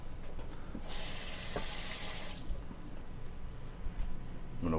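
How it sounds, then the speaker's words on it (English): Kitchen sink tap running onto a pan being washed, a faint steady splash with a brief stronger gush of water, then softer trickling and light clatter. "gonna wash this pan real quick"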